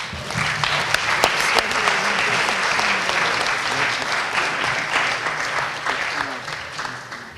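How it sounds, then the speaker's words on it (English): Student athletes at a college athletics recognition ceremony receive a sustained round of dense applause from the audience, steady and fairly loud throughout, with no speech over it. "just another big round of applause for our student athletes"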